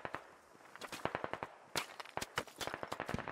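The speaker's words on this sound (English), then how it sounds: "with all that gunfire coming towards him" Gunfire in the tactical shooter SquadOps during a one-life military operation: rapid sharp cracks and bursts of shots, some close and loud, others fainter and distant, in irregular clusters.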